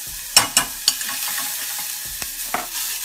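Spicy chili oil sautés in a pot with a continuous gentle sizzle, interrupted near the start by a few sharp knocks and scrapes and later by a couple more taps.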